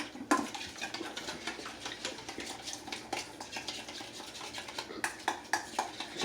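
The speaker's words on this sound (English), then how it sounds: "Give this a stir" A spoon stirs onions and coleslaw mix in a pot, producing close, repeated scraping and clinking strokes against the metal, with sharper knocks near the start and end.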